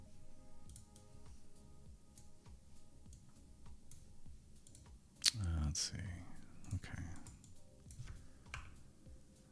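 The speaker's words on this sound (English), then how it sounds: "The soothing sounds of vibe coding in the morning." Computer keyboard clatters with steady light keystrokes during a morning coding session, with a louder burst of clicks partway through and someone speaking briefly over the typing.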